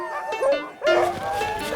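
Retired racing sled dogs, huskies, bark and yip excitedly before being harnessed, with overlapping close barks and whines in quick succession.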